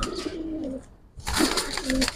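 Pigeons in a loft coo softly in short throaty bursts, a brief pause splitting two spells of calling, with a faint bit of rustle and nearby movement.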